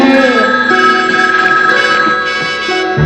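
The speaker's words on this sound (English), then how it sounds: "When the phone rings, answer it." Telephone ringing in a 1967 Green Hornet television episode, an old-style bell ring with sustained metallic tones repeating steadily for a few seconds, loud and close.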